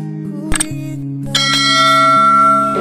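A bell chime for a YouTube channel notification, struck twice with bright metallic tones ringing on and sustaining, no talking.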